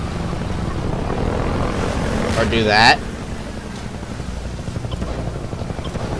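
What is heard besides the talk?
helicopter flying in video game Half-Life 2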